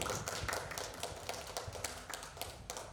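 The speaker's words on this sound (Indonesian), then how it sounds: "Tepuk tangan untuk kita semua" Audience applause at a school gathering, a fairly dense run of claps at moderate level, steady through the whole stretch with no voices over it.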